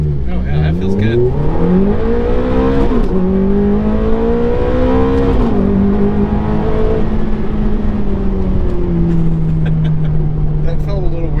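Ferrari F430 engine revving through the gears while driving, loud rising and falling howl with shifts, steady cruise toward the end, and people talking over it.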